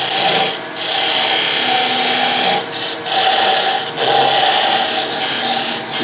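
A spindle gouge cuts a wooden ball on a spinning lathe while turning a gavel, giving a loud, continuous scraping rasp that drops out briefly three times as the tool lifts off the wood, with no talking.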